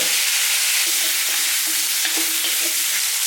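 Fish bones fry in a wok with bean paste, scallion, ginger, garlic and Sichuan peppercorns, a loud continuous close-up sizzle with faint scrapes of stirring.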